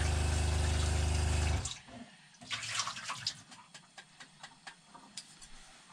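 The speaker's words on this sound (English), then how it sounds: "That's the water pump you hear." A water pump in a camper van hums loudly and steadily for a moment, then shuts off, leaving soft splashing and dripping water.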